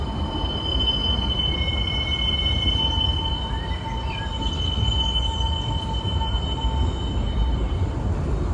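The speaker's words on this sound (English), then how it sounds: "on Big Thunder Mountain, where I hear that mysterious spirits have grabbed hold of those mining trains" Big Thunder Mountain mining train at Disneyland rumbles along its track with steady loud roaring and high metallic wheel squeals, no voices heard.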